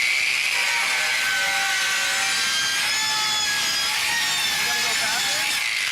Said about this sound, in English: I'm going to do what they call a plunge cut right in about here on the metal